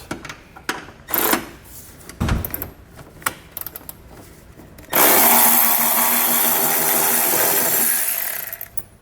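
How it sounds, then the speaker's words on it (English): A 16mm socket loosening frame bolts on a 2020 Volkswagen during trailer hitch installation: a few scattered clanks and taps, then a loud, steady ratcheting whir from a power tool that runs for about four seconds. "grab ourselves a 16mm socket, and loosen those up and pull them out."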